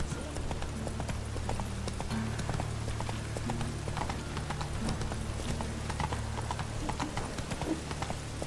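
Roach the horse galloping in The Witcher 3, rapid rhythmic hoofbeats pounding steadily throughout over a low game backdrop, with faint voices in places.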